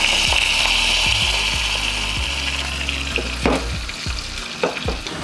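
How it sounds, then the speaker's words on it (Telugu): Garlic, mustard seeds, cumin, dried red chillies, a pinch of asafoetida and curry leaves fry in hot oil as a Telugu-style tempering, a continuous close sizzle broken by small crackling pops and a few spoon taps. "వెల్లుల్లిపాయ లేగిన తర్వాత కొద్దిగా ఆవాలు కొంచెం జీలకర్ర ఒక రెండు ఎండుమిరపకాయలు జస్ట్ ఒక్క చిటికెడు ఇంగువ ఫినిషింగ్ కరివేపాకు"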